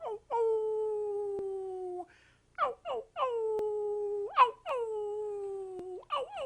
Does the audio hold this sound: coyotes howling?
yes